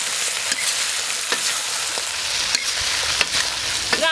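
Blanched chicken hits a hot wok with bean paste, giving a loud, steady frying sizzle with scattered sharp pops and a few spatula scrapes, close and alone without speech.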